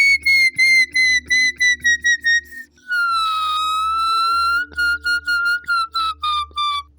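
Shrill, piercing blasts from a homemade survival whistle blown through two holes: a series of short toots, one long sustained blast, then more rapid short bursts, very loud and close with no talk.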